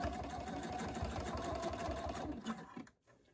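A sewing machine back stitches a wristlet key holder in a quick rhythmic run of needle strokes, close and clear, then stops sharply into near silence.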